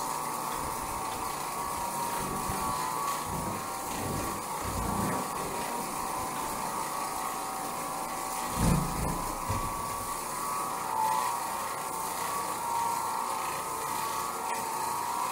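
An Oreck Orbiter orbital carpet cleaning machine hums and whirs continuously with a steady mechanical tone, occasional low thumps and scrubbing surges over the top.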